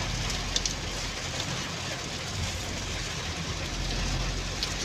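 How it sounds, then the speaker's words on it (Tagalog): Heavy rain pours down steadily in a flood-prone neighborhood, a dense, continuous hiss with no let-up and faint spattering drops throughout. "Malakas ang ulan."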